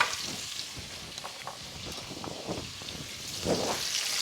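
Sliced garlic sizzling steadily as it browns in a pan for a French chicken stew, a soft, continuous crackle with faint stirring scrapes, heard alone without talk.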